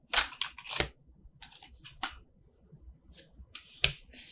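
Tarot cards being shuffled overhand in the hands, crisp papery riffles and snaps in several quick bursts with short quiet gaps, close and fairly soft.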